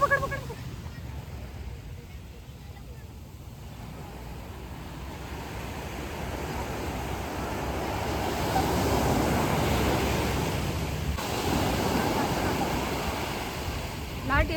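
Sea waves wash in steadily at Girgaon Chowpatty beach in Mumbai, a broad rushing surf that builds to a peak midway and then eases, with wind and distant beach crowd noise mixed in.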